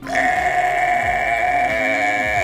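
A single sheep bleats in a sustained, wavering cry that stays loud and clear for about two seconds, with no other sounds around it.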